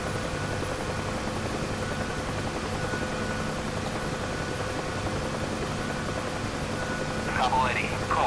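A UH-1H Huey helicopter's rotor and turbine drone steadily in the DCS flight simulator, a constant loud whine and thrum with someone talking over it.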